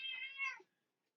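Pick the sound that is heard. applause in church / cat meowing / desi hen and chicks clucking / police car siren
cat meowing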